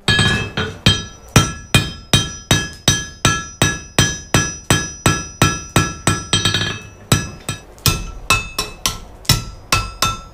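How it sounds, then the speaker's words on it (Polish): Blacksmith at a Viking village in Norway striking heated metal with a hammer, a steady run of about two dozen loud, ringing blows close by, briefly pausing before resuming, with no talk. "To będzie teraz uderzał młotkiem."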